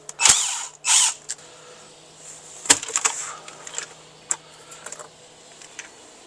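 Short bursts of driver or ratchet noise as T30 Torx bolts come out of the PCV system on a VW Tiguan engine under teardown; two strong bursts early, then scattered smaller clicks and rattles, close and fairly loud, with no talking.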